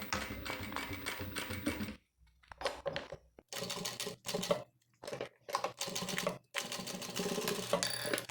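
A sewing machine runs in bursts, stitching a seam through a folded cotton tricoline and clear crystal plastic pouch, with loud stretches of rapid mechanical whirring broken by short pauses and quick stops.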